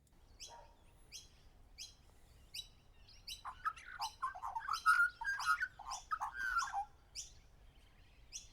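An Australian magpie sings a long run of warbling, fluting calls with sharp high chirps, building to a busier, richer stretch in the middle before thinning out, clear and fairly close without talk.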